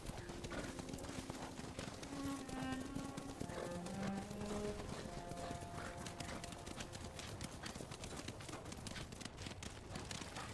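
A horse's hooves clip-clop steadily during a long ride in the video game Ghost of Tsushima, a continuous rhythmic gait that sits beneath music and ambient game sound.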